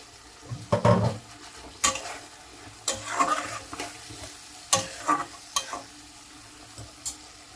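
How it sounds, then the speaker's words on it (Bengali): Masala sautés on low flame in a pan for a rohu fish egg curry, quiet frying broken by irregular stirring scrapes and clinks of the spatula, close and moderately loud. "কমিয়ে খুব সুন্দরভাবে কষিয়ে নেব যতক্ষণ না তেল ছেড়ে আসে"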